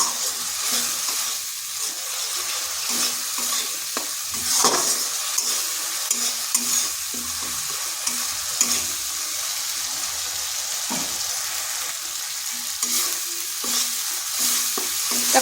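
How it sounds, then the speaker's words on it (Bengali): Ground coriander and Kashmiri chili powder spice paste frying in oil in a wok, a steady close sizzle with soft scraping stirs throughout and no voices. "কাশ্মীরি লঙ্কার গুঁড়ো মশলাটাকে ভালো করে কষে নিতে হবে বেশ কিছুক্ষণ সময় ধরেই কষতে হবে"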